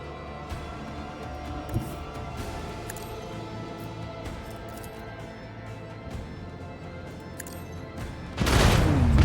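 Torpedo fire and explosions in Warhammer 40k Rogue Trader: a steady crackling barrage of distant blasts and impacts, then a sudden loud, close explosion bursting in near the end, with no talking.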